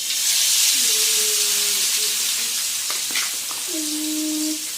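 Boroli fish slide into hot oil in a heated pan, producing a steady loud sizzling hiss that fills the whole stretch, with a few brief tonal squeaks over it and no talking.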